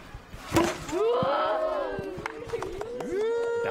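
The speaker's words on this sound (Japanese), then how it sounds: "大歓声。" A crowd of children at a baseball clinic breaks into loud, high-pitched cheering and shouting after a batting swing by Hawks slugger Yanagita, with a sharp hit just before.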